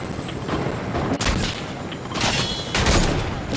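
Bursts of gunfire in a multiplayer shooter video game, with sharp broadband volleys around the middle and end of the clip over steady game ambience, fairly loud and close, with no talk.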